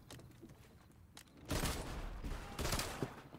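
Twin pistols fire in Fortnite as quick volleys of gunshots, with two louder bursts after a quieter opening, close and punchy without any talk.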